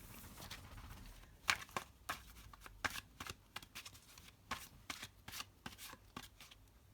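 Tarot cards being shuffled by hand, a run of crisp riffling and slapping bursts at an irregular rhythm, close and quiet with no talking.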